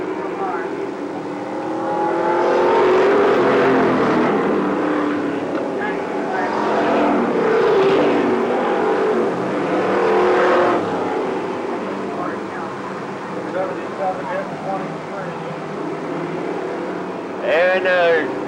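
Race cars roaring on the final lap of a season championship night race, a sustained loud engine drone that swells and passes, with an announcer talking over it throughout.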